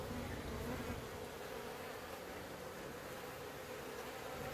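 Honeybees robbing old honey from a shed, a dense, continuous buzzing swarm droning steadily at moderate distance with no pauses.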